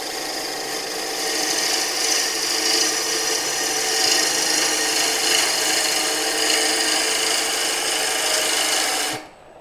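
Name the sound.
wood turning tool cutting a bowl on the lathe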